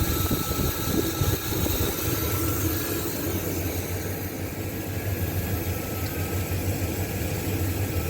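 A 1980 Chevy 4x4 truck engine idles steadily, a continuous low rumble with broadband mechanical hum that holds even throughout, no voices over it.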